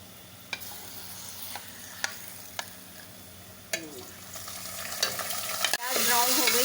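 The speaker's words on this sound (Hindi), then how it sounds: "प्याज ब्राउन हो गई थी, मैंने इसमें 1 पाव कीमा डाल रही हूँ।" Minced beef hitting a pan of browned onions while cooking shimla mirch with qeema, a steady frying sizzle with a few sharp clinks from stirring, swelling louder toward the end.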